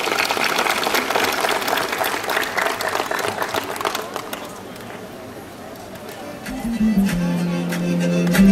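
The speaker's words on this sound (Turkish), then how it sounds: "Alkışlarınızla." A crowd at a Circassian culture festival claps loudly and steadily, then the applause thins out and a voice over a PA system starts to speak as the clapping ends.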